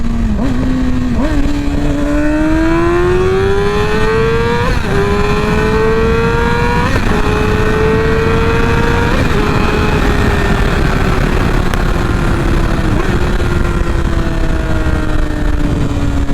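A car engine revving hard through a run of downshifts and upshifts, its loud droning pitch climbing and dropping in steps with a pop between gears, close and continuous with no talking.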